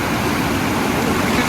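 A cold mountain stream rushes hard along the Kedarnath trek, its current a steady, close, unbroken roar of churning water with no voices over it.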